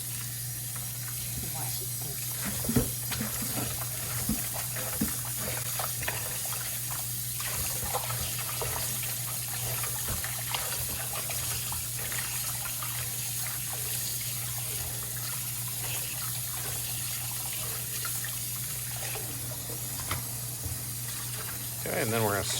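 Tap water runs into a sink as food is washed for adobo sa asin, a steady trickling stream with occasional clatter, and a person talks over it at times.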